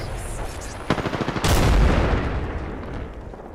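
Gunfire from an Apex Legends firefight: a burst of rapid shots followed by heavy sustained automatic fire with booming impacts, loud and close.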